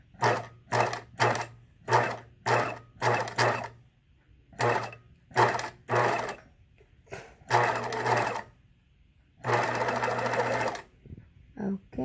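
A sewing machine stitches a Hong Kong finish seam in a string of short, evenly spaced bursts with a hum under each, then two longer runs, close and clear, with a brief spoken word.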